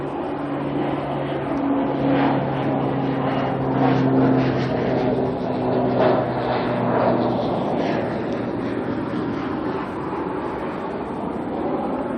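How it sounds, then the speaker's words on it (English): A small medical life-flight plane comes in to land at Auckland Airport, a steady droning engine with tonal hum rising slightly toward the middle, continuous and moderately loud over outdoor ambience. "Oh, life flight's coming in. A little medical plane."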